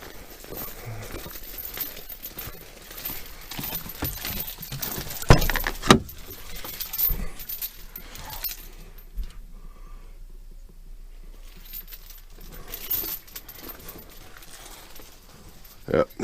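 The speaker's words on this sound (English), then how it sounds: "Yep, there's the other chain." Metal trailer chains being handled and dropped, giving sharp clanking jangles with a few loud strikes, amid general outdoor handling noise and some talk nearby.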